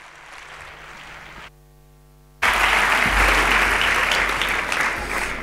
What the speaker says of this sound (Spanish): Os dejo fuerte el aplauso con Ángel Bonache y Julia Cronova.